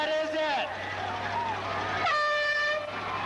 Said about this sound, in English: 2 blasts in our air horn means the competition is over